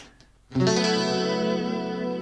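A single strummed chord on a clean electric guitar rings out brightly after a quiet moment, then sustains with a shimmering, chorus-like effect.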